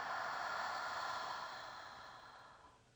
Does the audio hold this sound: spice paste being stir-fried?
no